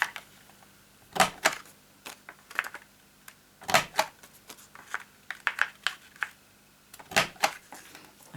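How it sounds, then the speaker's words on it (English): A handheld corner rounder punch clicks through paper corners during a matchbook box craft, giving several sharp, close snapping cuts with handling rustles between them and no speech. "pop this in and do the corner rounder"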